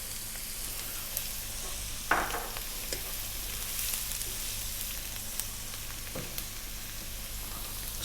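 Onion and garlic frying in a pan give a steady, close sizzle with a couple of sharp stirring scrapes and clicks, no voices.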